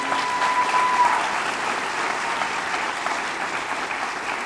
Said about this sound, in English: round of applause for the people that were selected tonight